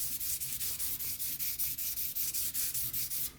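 Utility knife blade being sharpened, repeated rhythmic rubbing strokes back and forth at a steady pace, about a dozen even passes, close and clear, with no talking.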